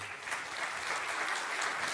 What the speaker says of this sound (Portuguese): eu queria pedir uma salva de palmas para todos que estão aqui